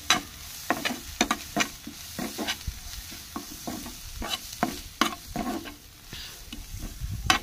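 Dry chili powder stirred into food frying in a pan, with a steady sizzle under repeated sharp scraping strokes of the spoon in an uneven rhythm, close and clear.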